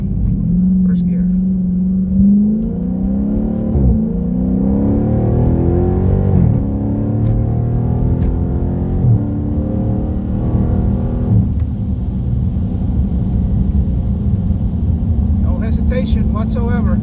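A Dodge Charger Scat Pack with a Hellcat air filter pulls hard through the gears on paddle shifts, its deep engine note rising in pitch several times with brief dips at each upshift, loud and close inside the cabin.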